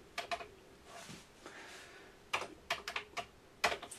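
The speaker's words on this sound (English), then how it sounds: "So for the normal games, we type in load." Fingers typing on a Commodore VIC-20 keyboard, a few quick clusters of clacky keystrokes with short pauses, close and fairly quiet.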